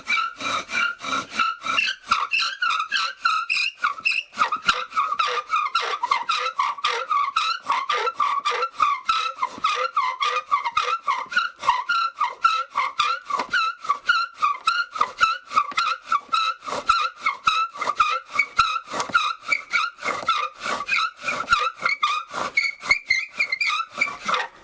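Rapid, rhythmic rasping squeaks of a bow drill spindle rubbing on wood while making fire by friction, a steady back-and-forth friction sound repeating many times, close and fairly loud.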